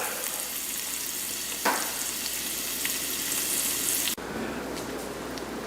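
Pizza topping of black garlic, andouille sausage and shiitake mushrooms sizzles steadily as it cooks down in a pan, a loud, continuous frying hiss with a brief clatter partway through and a sudden drop in level near the end.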